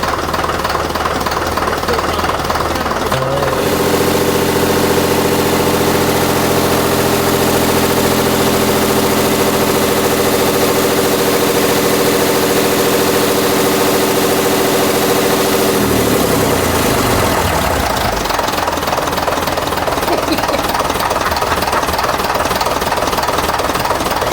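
A loud London bus engine, newly fitted, runs close by in a workshop, rattling and knocking, then settles into a steady droning rev before dropping back to a rough, clattering idle.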